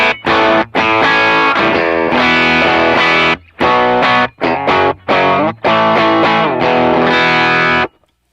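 Electric guitar played through an effects pedal with its mid-range boosted, loud distorted chords and riffs in choppy bursts separated by short gaps, ending in a sudden cutoff.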